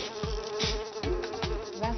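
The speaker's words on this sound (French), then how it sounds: "Vincent assailli par une nuée de mouches" A swarm of flies buzzes steadily around someone out in the open, a dense, continuous whine with wingbeats swelling and fading as individual flies pass close by.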